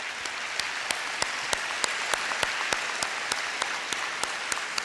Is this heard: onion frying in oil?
no